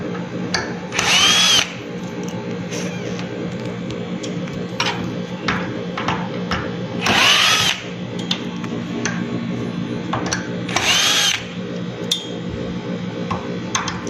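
Power drill driving screws into a table beam during table installation, three loud whirring bursts of one to two seconds each, spaced apart, with faint clinks and shop noise between.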